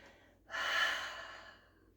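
A single strong exhale during a Pilates exercise: a breathy whoosh rises sharply, holds for about a second, then trails off, close and alone.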